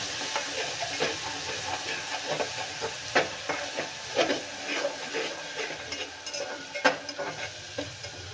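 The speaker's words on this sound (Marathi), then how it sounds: "आता हे मिरची आपल्याला तेलात घालायची आहे" Ground green chili paste frying in hot oil while being stirred, giving a steady sizzle and hiss broken by scraping stirring sounds and small pops throughout.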